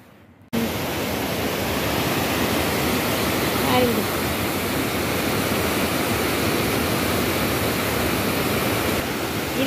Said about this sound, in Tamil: தண்ணி பாயிற இடம் ஒன்று இருக்கு,